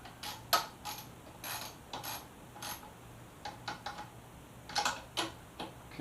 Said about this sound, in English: Okay, first bolt's in.